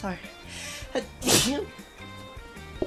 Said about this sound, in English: Why do I sneeze?